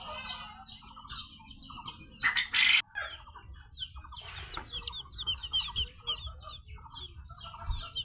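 Hatchling quail chicks and chicken chicks playing together chirp and peep constantly in rapid high overlapping calls, with a couple of louder bursts and faint scratching beneath.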